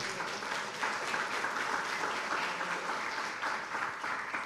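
A church congregation applauds during a sermon, a sustained wash of clapping at moderate loudness with no talk over it.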